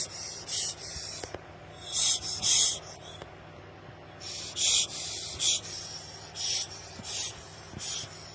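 Short bursts of hissing air escaping from a disconnected air suspension hose on a leaking 2009 Citroën C4 Picasso, several puffs in irregular succession, fairly close, with quiet gaps between them.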